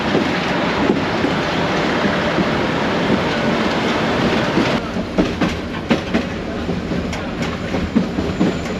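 Local train on the Dhaka to Narayanganj line, a loud steady rumble and roar of the carriages with rhythmic clickety-clack rail joints growing more distinct in the second half.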